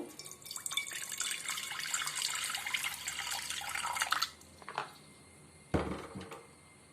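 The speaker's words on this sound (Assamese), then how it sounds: "তাত মই অলপ পানী দি দিছো" Water pours steadily into a metal wok for about four seconds, then stops, followed by a couple of light clanks and a thud.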